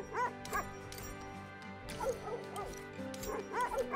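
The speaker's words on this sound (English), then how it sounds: "Let's feed these dogs." Dogs in the video game The Red Lantern yip, woof and whimper in short bursts, close and fairly quiet, over a steady game soundscape.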